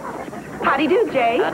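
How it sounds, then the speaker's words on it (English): A dog barks and whimpers in short yelping bursts near the end, close and moderately loud, with someone talking over and before it. "Oh, that's a dog."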